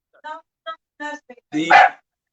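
A small dog gives several short yips in quick succession, then one louder, longer bark, close by.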